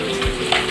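Spices such as bhedailota paste, cumin powder and turmeric fry in a pan for an Assamese kawoi fish curry with ash gourd, giving a brief, close, steady sizzle with a faint stirring scrape.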